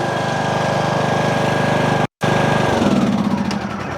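A Craftsman YTS3000 lawn tractor engine runs steadily and loudly up close, with a steady mechanical drone and a brief cut near the middle before the engine returns with a deeper chugging tone.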